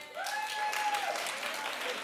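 Studio audience clapping and cheering at a daytime talk show, a steady wash of applause through the whole stretch with a whoop or whistle-like tone riding on top.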